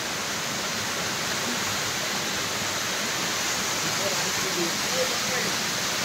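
Waterfall at a tourist spot in Daringbadi, Odisha, heard as a constant dense roar of rushing water that fills the whole clip evenly.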